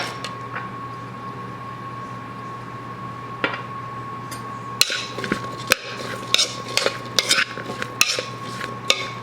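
Salted and peppered potatoes being mixed in a bowl, with a run of sharp clinks and scrapes in the second half over a low steady hum, following a quieter stretch with only occasional knocks.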